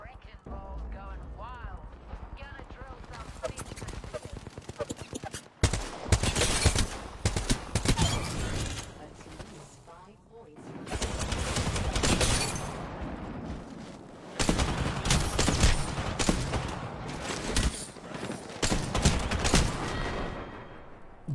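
Rapid hip-fire gunshots from a weapon in the battle royale game Apex Legends, loud dense bursts of fire repeating in clusters, with a player talking over them.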